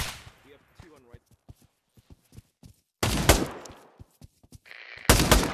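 Bursts of automatic gunfire from the VR shooter game Pavlov, with heavy recoil: sparse sharp shots at first, then two loud, dense volleys, while players talk between them.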